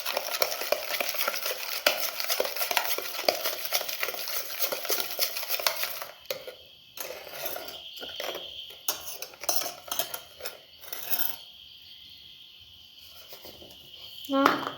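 Cake batter being stirred in a bowl for a no-oven cake, giving soft scraping and clinking of a utensil against the bowl in irregular strokes, with quiet pauses between and faint voice in the background.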